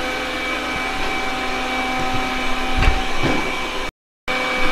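A Yeedi robot vacuum-mop from a mop-station set cleans a floor with a steady whirring motor drone and a faint tonal whine, plus a few brief knocks and scuffs midway and a short dropout near the end.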